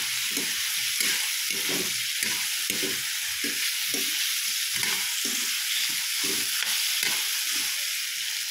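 Okra, string beans and other vegetables for pakbet sizzle in a hot pan, a continuous bright hiss broken by regular scraping stirs, close and steady with no voices.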